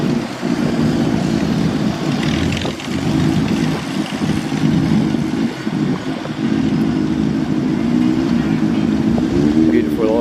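Vintage cars, among them an old Hudson Super 6, rounding a corner at an old crock run, loud steady engine rumble passing close by with a voice talking over it.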